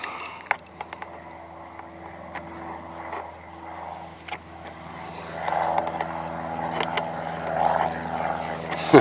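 An airplane that has just taken off from Tyab drones faintly overhead in a low, steady hum that swells slightly toward the end, with sharp clicks of work close by.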